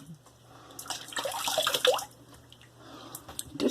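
A Gillette Aristocrat safety razor is rinsed under running tap water, with close splashing and trickling that swells and fades over a few seconds, and no talking.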